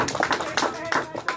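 A few audience members at a live comedy show clap in a sparse, uneven rhythm, with several distinct claps in quick succession and voices mixed in.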